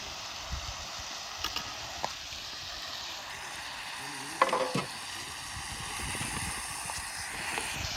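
Chopped brinjal and tomato sizzle in a hot pan for an Erode-style kadayal, with a steady crackling fry and occasional clinks and scrapes of stirring, heard close up.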